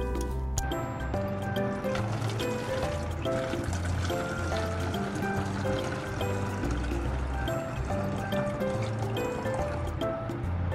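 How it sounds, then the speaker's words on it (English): Soy sauce pours into a plastic bottle with a steady liquid gurgle and rising fill tone, continuous and close, with faint background sounds and no speech. "let's get ready to pour in the soy sauce into your own plastic bottle"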